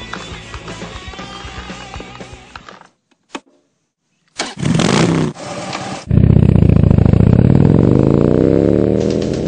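A 2012 Harley-Davidson Dyna Switchback's 103 V-twin fires up after a brief quiet gap, catching with a short burst, then settles into a heavy, rumbling roar that holds steady.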